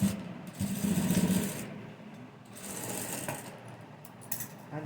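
A sewing machine runs in short bursts, stitching along the hem edge of a blouse with a close, rapid mechanical whir between quieter pauses.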